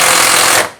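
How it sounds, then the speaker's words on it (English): Impact gun working a bolt loose on a Suzuki Gixxer 250 motorcycle, one loud, dense, close burst of hammering that cuts off abruptly. "if you're removing bolts, it's pointed in the right direction on the impact gun"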